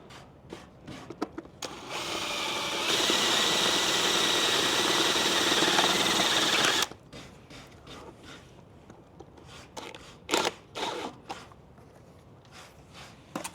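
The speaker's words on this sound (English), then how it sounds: "now I'm just going to run a 8mm drill bit in just to take the head off the nail" A power drill with an 8mm bit whirs steadily for about five seconds, loud and close, drilling the head off a nail in a 15th-century oak door, followed by scraping and knocking of tools on wood.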